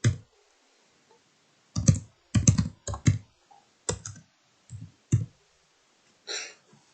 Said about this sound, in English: So when you type it in, then press comma afterwards.